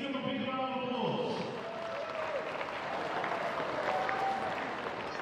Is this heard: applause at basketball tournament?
yes